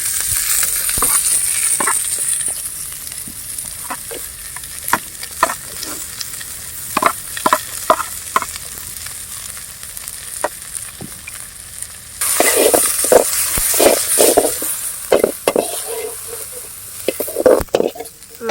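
Chopped onions tossed into a pan of fried fennel seeds at an outdoor village cookout, a loud sizzle with repeated scraping and clanking stirring strokes, the hiss surging again after a quieter stretch.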